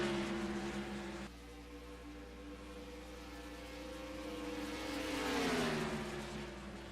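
Race cars in the NASCAR Racing 2003 video game at Dover, a steady, loud engine drone with stacked tones that bend downward late on as a car passes or shifts, no talking.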